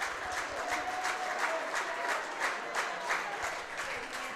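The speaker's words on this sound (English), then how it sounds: "the Huntington crowd getting behind their team" A Huntington crowd at an outdoor baseball game against Eastern claps steadily in rhythmic bursts, a moderately distant, sustained wash of applause rallying behind their team.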